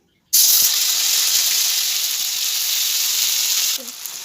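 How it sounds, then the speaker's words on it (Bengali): Mustard and poppy seed paste with ginger and green chillies hits hot oil with a sudden loud sizzle that holds steady for a few seconds, then eases; no talking. "কাঁচা লঙ্কা ভেজে নেব"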